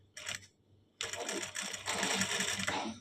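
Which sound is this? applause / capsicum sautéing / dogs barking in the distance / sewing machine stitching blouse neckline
sewing machine stitching blouse neckline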